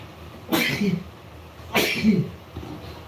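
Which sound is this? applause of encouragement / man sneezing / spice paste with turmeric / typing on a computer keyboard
man sneezing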